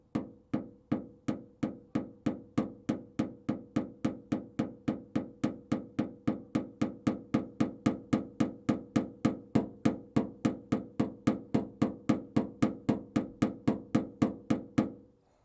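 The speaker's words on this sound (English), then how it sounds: "I'm going to hit it with a hammer a few spots just to bring it down a level" A small ball peen hammer striking a metal weld, a long steady run of sharp ringing blows at a brisk even pace, close and alone, each hit decaying quickly.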